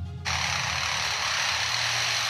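A bird mimics a chainsaw: after a brief pause, a loud, steady buzzing whine starts abruptly and holds without a break.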